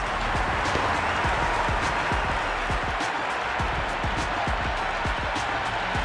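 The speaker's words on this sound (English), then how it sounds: "The crowd are really getting quite raucous." Crowd noise from a cricket video game, a dense, steady roar of cheering and applause from a stadium crowd during an India versus Australia World Cup final, loud and continuous throughout with scattered sharp claps.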